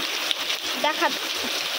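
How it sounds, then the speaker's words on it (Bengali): Heavy, powerful rain splashes down around a small boat and trees, a dense continuous hiss with close splatters, while a voice briefly speaks over it. "এই যে কেমন পাওয়ারফুল বৃষ্টি"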